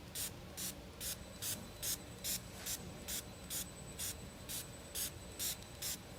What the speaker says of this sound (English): we're going to take our spray mister here, and we're actually just going to mist the light